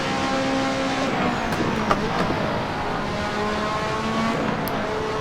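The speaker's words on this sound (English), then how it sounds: "Nothing like a F1 car with a manual shifter." A Lotus 98T Formula 1 car with a manual shifter, driven in the racing game Assetto Corsa, drones steadily at high revs with a buzzing harmonic whine. Pitch shifts briefly mid-run, and there is no talk over it.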